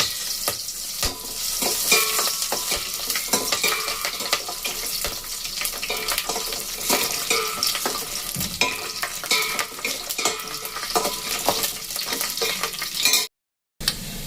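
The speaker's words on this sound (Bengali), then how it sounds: "দেখুন কাজু সমস্ত কিছু একটুখানি ভাজা হয়ে গেছে, একদম লাল করে ভাজলে হবে না।" Cashews, cloves, cardamom and cinnamon fry in hot oil in a pan while being stirred, giving a loud, steady sizzle with scraping and rustling throughout before a brief cut to silence near the end.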